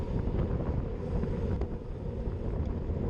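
Steady low rumbling headwind buffeting a microphone during a cycling race in the Netherlands, loud and continuous throughout with broadband gusty noise.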